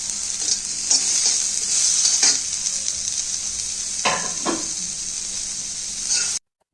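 Dried chilies and onion frying in a wok give off a steady close sizzle with bright hiss, while a few stirring scrapes break through and louder clatters come near the end.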